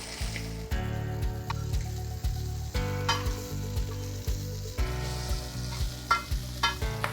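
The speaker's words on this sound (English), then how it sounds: "just put the mutton pieces and fry them in the ghee" Mutton pieces fry in ghee on a tawa, a loud close sizzle overlaid with rhythmic repeated scraping and stirring strokes, pulsing roughly every half second, with no talking.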